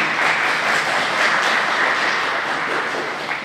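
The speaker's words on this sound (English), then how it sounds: "Big round of applause" Steady audience applause at a school district spelling bee, a dense even patter of many hands clapping through the whole stretch and easing slightly near the end.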